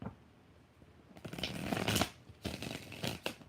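A deck of tarot cards is shuffled in repeated riffling bursts, close and crisp, with short pauses between the shuffles.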